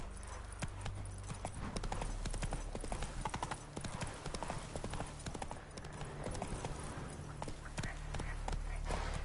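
Galloping horse hooves in the video game Witcher 3: a rapid, continuous clip-clop of hoofbeats over a low rumbling game soundtrack, steady and fairly close throughout.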